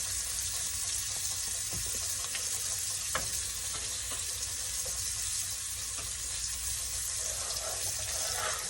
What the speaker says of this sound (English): I'm going to put the lobster tail in and fry it.